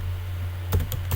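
A few quick keystrokes on a computer keyboard, with soft, close clicks near the end over a steady low hum and no speech.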